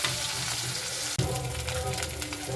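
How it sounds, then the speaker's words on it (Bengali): Pieces of rohu fish frying in hot oil for a Bengali fish curry, a steady broadband sizzle that briefly drops out near the middle and then returns louder, close by, with no talking. "মাছগুলোকে আমি সবগুলো সবগুলো একসঙ্গে ভাজবো না অল্প অল্প করে ভাজবো"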